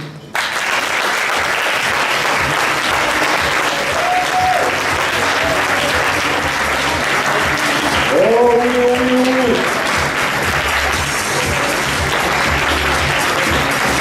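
An audience applauds after a talk, steady sustained clapping from a room full of people throughout, with a few brief voices rising over it partway through.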